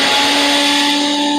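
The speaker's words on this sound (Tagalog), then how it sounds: "patunugin mo nga ang blender." A household blender running at full speed, a loud continuous whirring motor whine with a steady pitched hum, close and alone, no talking.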